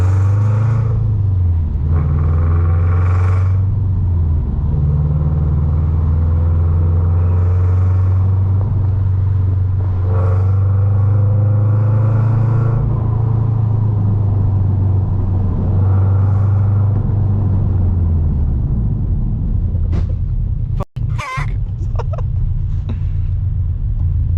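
Tuned Subaru BRZ with a JDL UEL header and Nameless catback exhaust on a night drive: a loud, steady, deep exhaust drone that rises and falls, ending in a brief sharp crackle.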